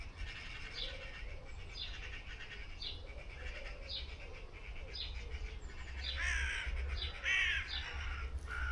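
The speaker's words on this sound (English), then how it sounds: "A very noisy magpie somewhere." Harsh, repeated chattering calls of a magpie ring out at a steady pace from some distance in a cemetery, growing a little louder toward the end over faint outdoor ambience.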